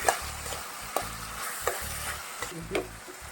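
Food is mixed in a frying pan with a spatula, producing repeated scraping strokes about every second over a constant background sizzle, close and fairly loud, with no speech.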